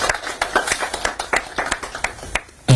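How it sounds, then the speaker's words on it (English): Audience applause for members of the diaspora at a Kenyan political gathering, a run of sharp, fairly quiet claps at an irregular rhythm from a modest crowd, fading out near the end. "a round of applause to our members of the diaspora"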